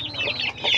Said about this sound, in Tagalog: Pero matangkad siya na manok.